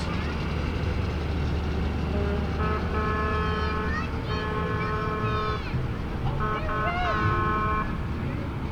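A Champlain Peterbilt truck in a nighttime holiday parade of lights gives several short horn toots in two bursts over a steady rumble of idling vehicles and crowd noise.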